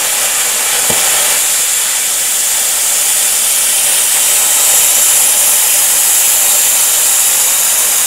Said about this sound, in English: I'll just keep on cutting when the compressor cuts back in